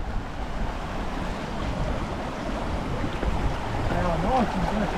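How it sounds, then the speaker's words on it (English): Strong wind buffets the microphone on Carrauntoohil, Ireland's highest peak, on a dark, rainy December night, a constant loud roar with brief voices near the end. "Very, very windy."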